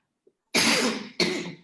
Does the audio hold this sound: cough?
yes